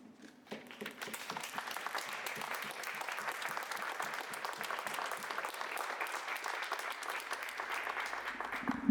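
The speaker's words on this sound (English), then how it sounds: "I would like us all to applaud her" An audience at a Cefres event applauds in tribute to Fariba Adelkhah, a steady, full wash of clapping from a large room that builds quickly and stays even for nearly nine seconds.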